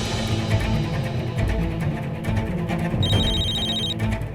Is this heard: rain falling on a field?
no